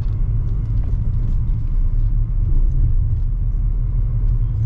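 Steady low engine rumble of a car driving straight along a road, a continuous close drone with road noise and no voices.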